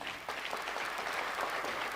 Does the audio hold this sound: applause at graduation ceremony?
yes